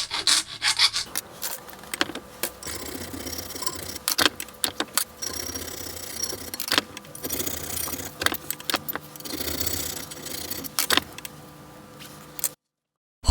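Copper rose petals cut from scrap copper water pipe being filed to round off sharp edges, a steady rasping scrape in repeated strokes with intermittent metallic clinks, close and alone with no talk.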